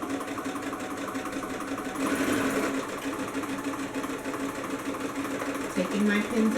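Sewing machine stitching a 1/4 inch seam on paperbag pants, a steady close mechanical whir that runs throughout, with someone talking over it.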